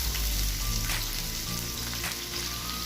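Garlic and onion sizzle steadily in hot cooking oil in a Teflon pan, a loud, continuous, close crackle with a faint stirring texture and no voices.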